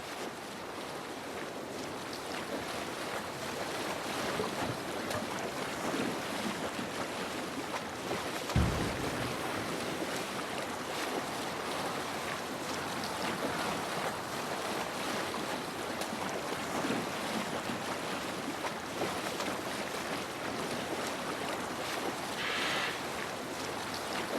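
Longship under sail on open water in Assassin's Creed Valhalla, a steady wash of waves and wind with hull sounds running continuously throughout, one brief low thump near the middle.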